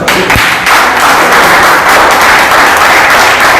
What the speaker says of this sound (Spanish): Un aplauso para César Vallejo